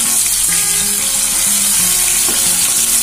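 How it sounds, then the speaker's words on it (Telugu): Stuffed brinjals frying in a pan on a medium flame, a steady dense sizzle of hot oil, loud and close, with faint low tones beneath and no talking. "మీడియం ఫ్లేమ్లో పెట్టుకొని ఫ్రై చేసుకుందాము వంకాయలని"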